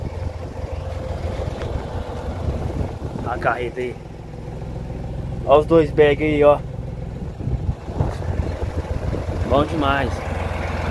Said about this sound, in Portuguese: E o trator Valtra A950R